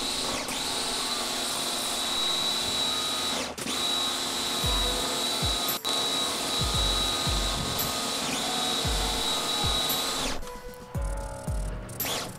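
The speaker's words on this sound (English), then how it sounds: "Applying liberally while the power washer does its thing over there." Power washer rinsing car wheels, a continuous loud hissing spray lasting about ten seconds, with a few knocks, before fading into softer handling noise.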